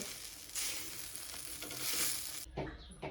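Onion slices fry until brown in a pan for a Maharashtrian maswadi and red rassa dish. A loud, close sizzle rises after a short pause, holds for about two seconds, then cuts off, leaving faint clatter.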